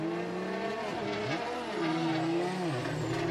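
Drift cars race through a chicane at Formula Drift Japan at Ebisu, their engines roaring loudly and steadily with pitch swoops as they rev and slide, with tire squeal layered underneath.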